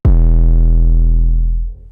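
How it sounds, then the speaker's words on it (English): A heavily processed, distorted 808 bass with dynamic EQ sounds one long booming note with a gritty buzzing edge, loud and close, decaying over nearly two seconds with nothing else heard. "And the 808 with the extreme processing sounds like this."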